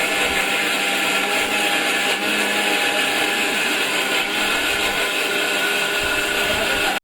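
A mixer grinder gives a loud, continuous high-pitched motor whine without pause from start to finish, cutting off abruptly at the very end.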